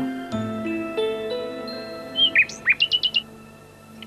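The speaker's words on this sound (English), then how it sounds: "Nightingale." A nightingale sings bright chirps and short whistled phrases, a quick run of repeated notes, over soft sustained tones in the background.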